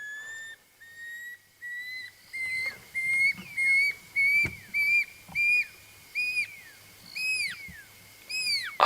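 Repeated clear descending whistle calls from a wild animal in the African bush at sunset, about a dozen evenly spaced notes ringing out alone with faint background activity.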